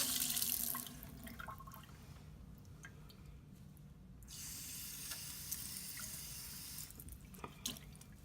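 Running water from a tap splashes and trickles while splint material is wetted, a soft close hiss that swells and eases, with some dripping and squishing as the material is handled.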